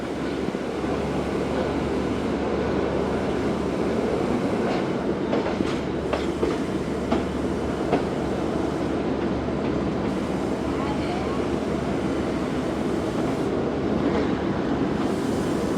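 The 15Up Karachi Express runs from Multan to Lahore with a loud continuous low rumble and rolling wheel noise, light rhythmic rail clatter, and faint voices in the background.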